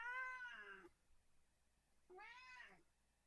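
A cat gives two clear meows about two seconds apart, close and fairly quiet, with a silent gap between them.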